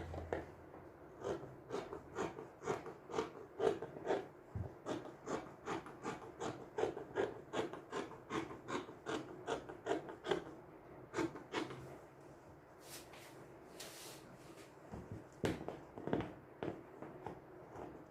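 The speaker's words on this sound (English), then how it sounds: "now I can go ahead and cut my clothes" Scissors cutting fabric for a kimono top with a peplum, a run of quick, crisp snips in steady rhythm, close and fairly faint, then sparser cuts and rustling toward the end.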